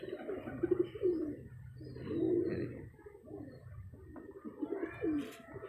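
Domestic fancy pigeons kept by a breeder coo in repeated low, throaty, rolling phrases, close and fairly quiet, with short pauses between bursts and a faint chirp near the end.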